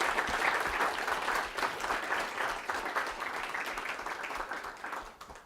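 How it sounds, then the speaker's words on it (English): An audience applauds the investor Mohnish Pabrai at the end of a university talk, a dense, steady wave of clapping from a full room that holds for several seconds before tapering off. "a round of applause for Mr. Pabrai"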